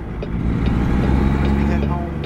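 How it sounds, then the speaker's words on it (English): A heavy dump truck engine rumbles steadily nearby as it drives past, a continuous low drone with no clear pauses. "Oh, that's a dump truck."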